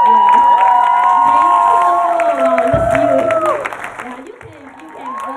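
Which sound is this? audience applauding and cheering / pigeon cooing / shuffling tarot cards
audience applauding and cheering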